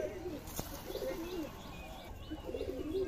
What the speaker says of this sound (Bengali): সকাল সকাল চলে এলাম কবুতরের ঘরে ঈদের নামাজ পড়ার পরে।